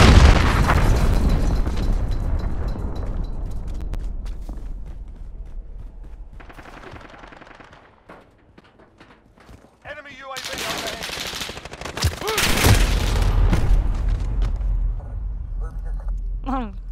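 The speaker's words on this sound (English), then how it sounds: "cruise missile away" Call of Duty multiplayer match with cruise missile strikes: heavy, loud explosions and rapid gunfire bursts in dense layers, easing off briefly midway before a fresh barrage of blasts and shots returns.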